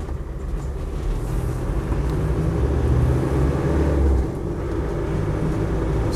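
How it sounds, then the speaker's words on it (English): A Land Rover Defender 90 300tdi rolls along on military-spec tyres, giving a continuous low engine and road rumble with a faint tyre whine. The drone swells slightly midway and then eases, with no talking over it. "It's got the military spec tyres on, which are slightly noisy, slightly whiny"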